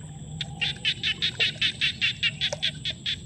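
Small frogs call from a wet spot at night in rural Thailand, a steady run of rapid, scratchy croaks repeating in a regular rhythm, fairly close and clear over a quiet background.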